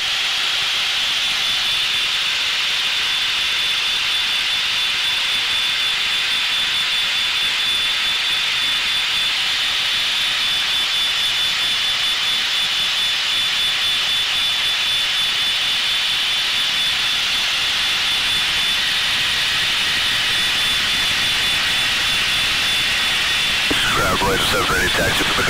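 Inside the cockpit of Blue Angels jet number 7 taxiing at Milwaukee airport, a loud, constant jet engine whine fills the whole stretch, with radio voices faintly underneath.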